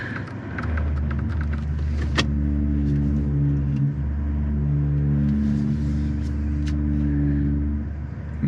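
A 2024 Toyota Tacoma Limited pre-production pickup crawls off-road in 4 low, first gear, its engine holding a steady low drone with harmonic hum, close and continuous, with occasional knocks and creaks from the vehicle.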